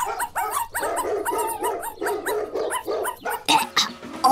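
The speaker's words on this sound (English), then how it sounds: "All that barking's killing me." A dog barks and yips in quick, loud bursts close by, a steady run of sharp barks with a few whimpering tones and a brief louder flurry near the end.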